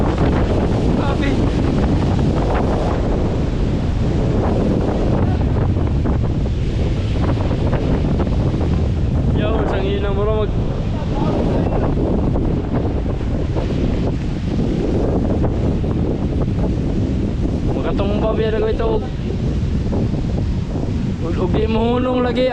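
Strong wind roars at sea on an open boat, buffeting the microphone in a loud, steady rush with surf underneath, while someone talks at intervals over it.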